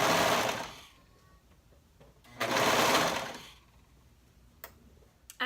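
A sewing machine stitches a bodice neckline in two steady whirring runs separated by a quiet pause, close and fairly loud, with a few faint clicks afterward.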